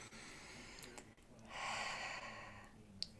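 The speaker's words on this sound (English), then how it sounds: "One last breath together." A single slow, deep breath drawn in and let out during a mindfulness practice, soft and close in an otherwise quiet space.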